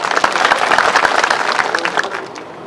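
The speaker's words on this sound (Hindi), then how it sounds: "तालियां बज रही है" A crowd bursts into loud, dense clapping at a political rally during panchayat elections, the applause sustained briefly and then tapering off slightly toward the end.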